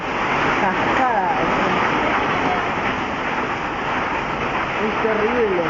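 Hailstorm in Glew, a dense, loud, continuous roar of falling ice and water with voices speaking over it.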